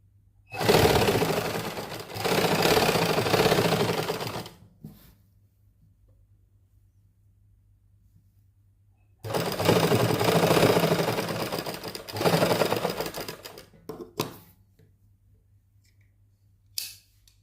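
Sewing machine stitching cotton lace onto fabric in two loud bursts of rapid whirring stitches, each a few seconds long, separated by quiet pauses.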